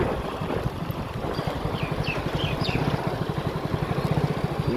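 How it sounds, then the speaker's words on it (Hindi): A motorcycle engine putters with a steady rapid pulsing, heard from the bike while riding outdoors in mild weather, moderately loud with some wind noise and faint high chirps. "ये चला रहा है बाइक"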